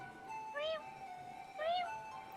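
A cat meows twice, each a short rising call about a second apart, moderately close over a faint steady background tone.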